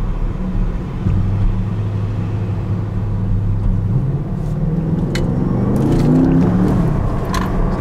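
A 680 hp Porsche Panamera Turbo S hybrid driving in Sport Plus mode, heard from inside as a steady low engine drone and road rumble that rises in pitch as the car accelerates.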